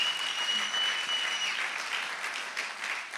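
A church congregation applauds during a French-language service, a steady, even wash of clapping from many hands that lasts the whole stretch without voices.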